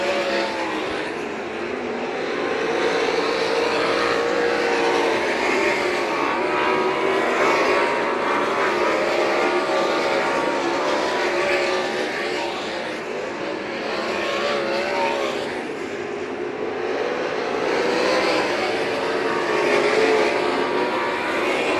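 UMSS sprint cars roar continuously around the dirt track at St. Croix Valley Raceway, leaders running three wide, engines snarling and swelling as the pack passes, loud and sustained with no talk over it.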